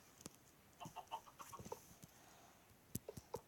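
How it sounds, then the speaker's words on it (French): Chickens in the Minecraft video game cluck in scattered, quiet bursts, a few separate clucks followed by a tighter cluster near the end, with no voices over them. "Il y a une famille de poules dans ma maison."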